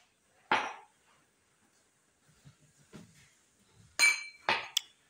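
Glass measuring cups clink sharply while sugar, oil and milk are portioned for a Moroccan mskouta cake: one bright clink early, then a cluster of ringing clinks near the end, separated by quiet handling noises.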